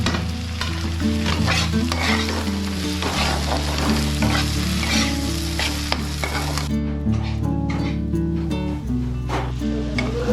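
Tomatoes, cumin and green chilies sizzle steadily in hot oil in a pan, with loud continuous frying crackle and stirring scrapes throughout, no voices.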